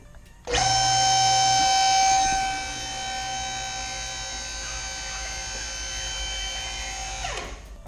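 An electric car lift in a shop raises a 1995 Mustang, its motor starting abruptly with a loud, steady whine and buzz that eases slightly then runs on evenly before cutting off.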